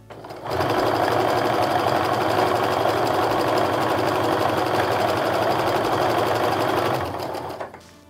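A sewing machine stitches quilt pieces for a maple leaf log cabin fall quilt, running in one loud, steady, fast burst of motor whir and needle chatter for about six seconds before stopping.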